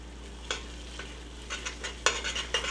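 Soft butter melting in a pot gets a light stir, giving a few quiet scraping strokes and faint sizzle, with sparse soft clinks spread across a short, otherwise calm stretch.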